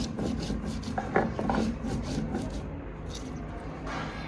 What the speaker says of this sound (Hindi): हम कचौड़ी में भाई सिल पे पीस के ही मिर्च गेरते हैं